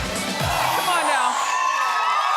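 A studio audience on a daytime talk show cheers and whoops loudly, a dense sustained roar of many voices with shouts rising over it, filling the whole moment at a steady high level.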